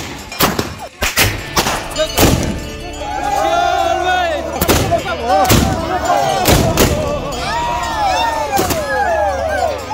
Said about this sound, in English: I was asked to fire a customary shot in the air as a celebration